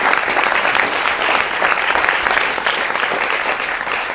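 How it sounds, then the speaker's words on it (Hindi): A studio audience on a Hindi TV news debate show welcomes a guest, a retired major general, with loud, dense applause that holds steady throughout with no speech over it. "जोरदार तालियों के साथ स्वागत करें"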